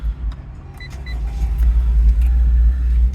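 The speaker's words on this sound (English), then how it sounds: "So without further ado, let's start the car as well." Acura TLX sedan starting from its push button: a low engine rumble rises and settles into a steady, quiet idle, close by, with small clicks over it and no talk.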